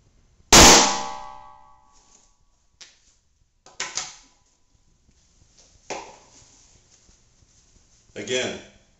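A 9mm pistol round fired into a purse or briefcase holster during a lab test: one loud, sharp report near the start, followed by a few fainter knocks and handling clatters spread through the rest.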